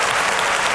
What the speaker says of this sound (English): I just want to give applause to Winco.